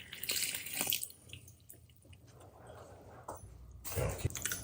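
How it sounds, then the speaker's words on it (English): Water pours into flour in a bowl for sourdough, giving soft splashing and trickling sounds in short bursts with a quieter lull in the middle, heard close up. "And then I'm gonna pour the water in here."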